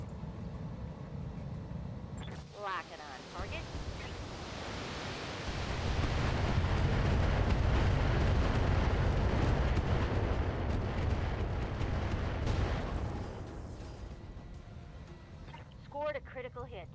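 Area-of-effect rounds blasting buildings in the BattleTech game Tesseract, heard as a long, loud, rumbling roar of explosions that swells through the middle and fades, with brief talk at the start and end.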